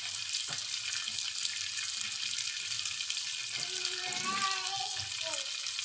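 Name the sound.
water being poured into a cooking pan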